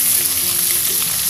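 Tempeh sizzles steadily in hot oil as it is stirred while frying for a tempeh soup, a dense, close crackle with faint scraping and no voices.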